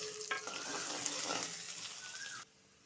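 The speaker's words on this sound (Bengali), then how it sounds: "পেস্টটা ভাজা হয়েছে পরিমাণ মতন নুন দিয়ে দিব" Onion, green chillies and spice paste fry in hot oil with a close, steady sizzle while a utensil stirs and scrapes the pan, before the sound cuts off sharply near the end.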